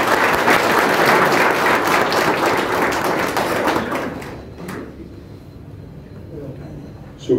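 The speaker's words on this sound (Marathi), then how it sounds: "टाळ्या वाजवा ना." An indoor audience at a Rotary Club award ceremony claps in a dense, loud burst of applause that fades out after about four seconds, leaving quiet room noise and a final thump.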